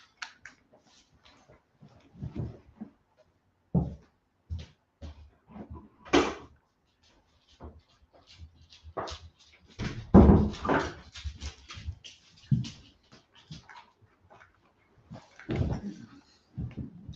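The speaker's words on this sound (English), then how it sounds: "My dog is scratching at the door and she wants to get into the living room." A dog scratches at a closed living room door in short, scattered bursts with quiet gaps between, along with faint whimpers and knocks against the door.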